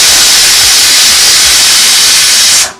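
A pressure cooker on a high stove flame lets off its whistle, a loud sustained hiss of escaping steam that runs close and unbroken for a few seconds, then cuts off abruptly.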